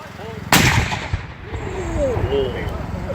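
Guns fire at a Civil War reenactment: one sharp loud report stands out, with a smaller pop after it, while people talk throughout.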